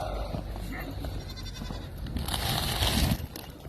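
Goats being fed hay bleat close by, several overlapping cries rising toward the end over crunching and rustling.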